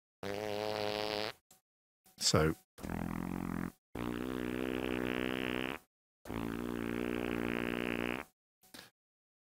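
A Fairlight sampler playing a musician's fart sample: several long, buzzy, low flatulent blasts repeated with short gaps, loud and close, with a brief spoken word among them.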